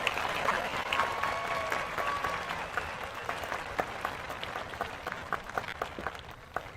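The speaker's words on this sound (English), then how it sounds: "Let's give a big round of applause to our EMT and first responders that are here today to help us." An audience at a high school graduation ceremony claps for EMTs and first responders, a full steady round of applause with a few sharper individual claps standing out near the end.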